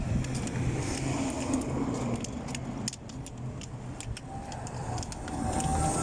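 Road traffic on a highway in Kuwait City, a continuous moderate rumble of passing vehicles with scattered clicks and rattles close by.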